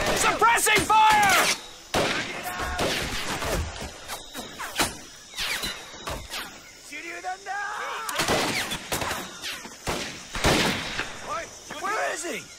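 Sustained gunfire in a WWII video game, rapid bursts of shots cracking near and loud across the scene, mixed with shouting soldiers and talk throughout.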